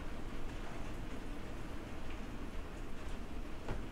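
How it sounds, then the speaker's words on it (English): Heavy rain pounds a flimsy balcony door in a steady, dense wash of close patter, with scattered sharper drops tapping through and no voices. "I've never seen the rain like this."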